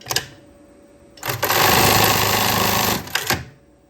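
A sewing machine stitches a seam on underwear fabric in one loud, steady whirring run of about two seconds, framed by brief mechanical clicks before and after.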